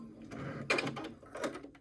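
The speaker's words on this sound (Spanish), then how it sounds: "dejar que la máquina misma va moviendo la costura" A sewing machine runs in short bursts while a seam is stitched on a peek-a-boo cosmetic bag, its close mechanical whir rising and dropping twice, with no talk.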